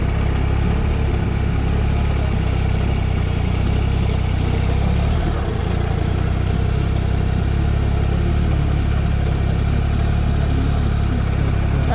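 A motorcycle engine idles and runs at low speed with the clutch held at the biting point during slow-control riding practice, a steady continuous rumble with no talk.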